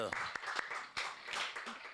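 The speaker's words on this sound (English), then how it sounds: "Y'all clap it up one time." Studio audience clapping, a short burst of sharp, scattered hand claps over a couple of seconds with voices mixed in.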